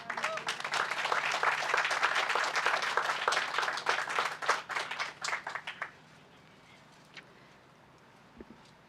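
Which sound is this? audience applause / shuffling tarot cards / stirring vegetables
audience applause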